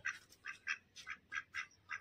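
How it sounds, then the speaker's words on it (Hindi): A duck quacks repeatedly in a steady rhythm during a fight with a rooster, about eight short nasal calls, fairly faint and without other sounds. "तो डक की और मुर्गे की फाइट हो रही थी"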